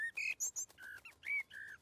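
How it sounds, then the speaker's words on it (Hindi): A cartoon bird in a Hindi-dubbed children's animated series chirps a rapid run of bright whistled tweets, about eight short notes in quick succession, quiet and clear with no talk. "वो चिड़िया हमें थैंक्स बोल रही है।"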